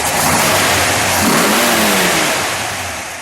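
A 1960 Plymouth Fury convertible's engine revs hard in a single rising, growling burst before easing back, loud and close with a deep rumble underneath.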